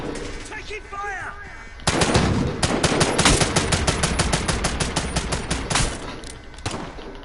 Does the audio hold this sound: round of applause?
no